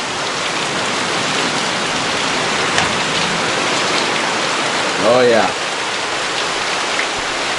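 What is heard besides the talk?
heavy pouring rain in Colombia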